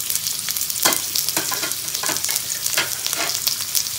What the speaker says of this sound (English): I've cut a big size onion. I'm going to put that in there